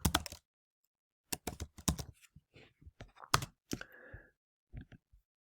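Keys on a computer keyboard clatter in irregular bursts of close, crisp clicks, with short pauses between clusters of keystrokes.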